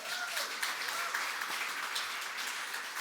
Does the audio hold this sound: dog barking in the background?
no